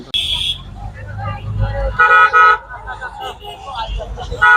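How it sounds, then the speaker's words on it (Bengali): Cars and buses sounding their horns in a traffic jam on a fully blocked road, with repeated short toots and longer honks close by over engine rumble as people talk nearby. "এখনই আবার একটা জ্যাম দেখা যাচ্ছে ফুল রোড ব্লক হয়ে আছে"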